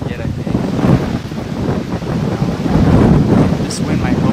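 Strong outdoor wind buffets the microphone during a turkey bowhunt, a loud continuous rumbling gust that swells and eases throughout.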